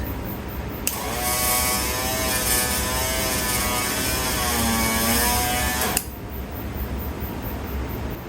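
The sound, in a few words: 1959 Cadillac power antenna mast retracting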